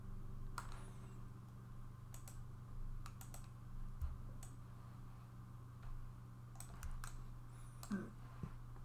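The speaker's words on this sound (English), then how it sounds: "You might be typing now" Typing on a computer keyboard, scattered bursts of crisp key clicks over a steady low electrical hum, with irregular pauses between runs of keystrokes.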